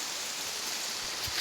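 Steady rain falls as a soft, even hiss of drops, a continuous wash of noise with a few slightly nearer patters near the end.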